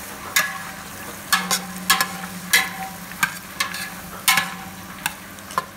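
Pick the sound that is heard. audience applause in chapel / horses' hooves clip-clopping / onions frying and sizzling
onions frying and sizzling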